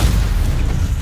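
A Stupefy spell strikes its target in the Hogwarts Legacy video game, landing as a loud, low, rumbling boom that fills the whole second.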